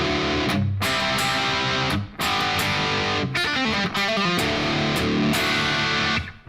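Brittle, treble-heavy overdriven lead guitar through the MLSoundLab Amped Ark amp sim with a touch of reverb, played as punchy riffs and bending lead phrases with short gaps between bursts.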